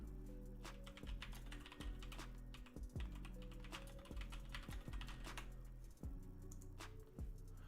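Computer keyboard keys clatter in fast, irregular bursts of soft clicks, fairly faint, over a steady low hum.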